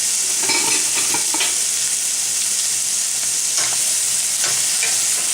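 Onions and peppers sizzle steadily in a hot pan for a curried chicken radish noodle stir-fry, a constant loud hiss with a few brief scraping stirs, no talking.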